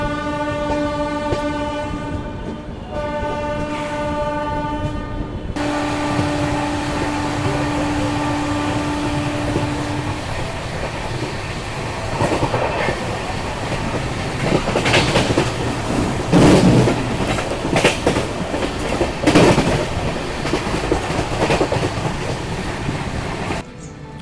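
Gorakhpur-Varanasi intercity express arriving at Bhatni Junction, opening with a loud sustained multi-tone horn, then steady rolling rumble and rail clatter with brief squeals and clanks as it slows, continuous and close throughout.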